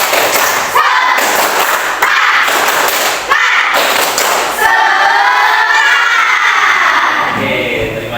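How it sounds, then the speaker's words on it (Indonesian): A primary school class in Indonesia performs a 'tepuk semangat' clapping cheer, with bursts of rhythmic group clapping broken by short pauses, then children's voices shouting and chanting together. "kita tepuk semangat dulu yuk."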